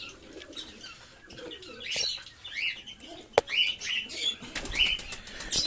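Pigeons in a pigeon loft flap their wings in repeated bursts, close by, with soft cooing and scattered chirps among the flutters. No one speaks.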